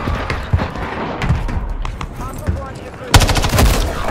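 Rapid automatic gunfire from a weapon in a video game rattles in dense bursts, with a louder, sharper volley near the end and a voice talking underneath.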